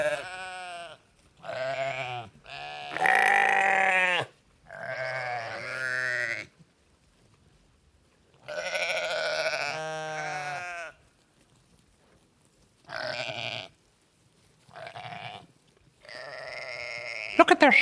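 A flock of sheep on a farm bleats loudly and close by, with repeated wavering cries separated by short pauses.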